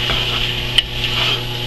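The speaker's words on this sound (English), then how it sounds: "You just want to keep stirring it." Prosciutto stirred in a pan for penne alla vodka gives a soft, steady sizzle with light scraping, and one brief utensil clink partway through; no one speaks.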